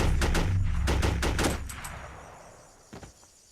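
Gunfire in the SOCOM video game: a rapid burst of close automatic shots fires for about a second and a half, then rings out and decays, with one fainter shot near the end.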